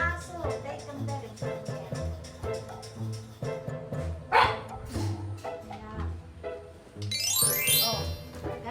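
Dogs at home bark in short repeated bursts, close and loud, mixed with people talking and a jingling sound.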